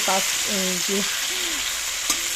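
Potatoes frying in a pan with cumin, dried chilli, bay leaf and garam masala give off a steady, close sizzle throughout, with brief voice-like tonal sounds over it early on and a sharp clink near the end.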